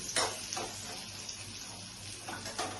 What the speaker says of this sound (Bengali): তেল তো গরম হয়ে গেছে, ফ্রাই করে নিচ্ছি